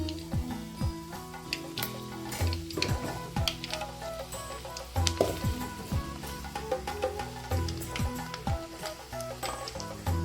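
Mustard seeds crackle and pop in hot oil with dense, irregular snaps over a low sizzle, close and lively, as tempering begins for raw mango rice.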